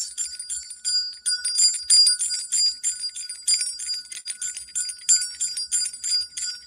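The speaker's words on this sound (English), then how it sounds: "Just listen to the sound of the bell" A bright, high bell rings steadily and repeatedly, shimmering tones overlapping continuously with a sustained metallic ring, no voices.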